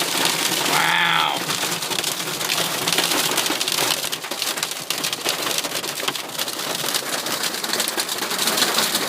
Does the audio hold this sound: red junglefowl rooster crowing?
no